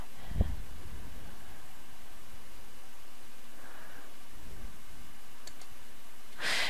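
A computer mouse clicks a few times in quiet editing work, with sharp isolated clicks and a brief rustle near the end.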